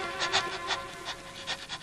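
A dog pants quietly and rhythmically in close, quick breaths over a soft room background.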